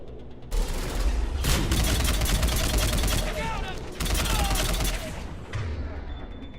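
A Carnage shot fired at a turret in Mass Effect, with bursts of heavy weapon fire crackling in loud rapid volleys, broken by brief pauses, while a person talks over the action.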